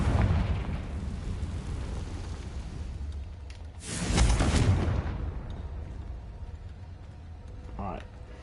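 A Confringo blasting spell in Hogwarts Legacy whooshes and swells into one loud, rumbling boom partway through, over a steady game background, with a voice heard nearby.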